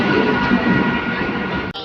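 A steady, loud rumbling roar of a train at a Sealdah station platform fills the air, continuous and close, ending with a brief clunk.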